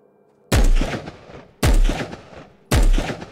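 Three loud, booming gunshots from a firearm in the video game Will To Live Online, evenly spaced about a second apart, each with a sharp crack and a decaying rumble, with no talk.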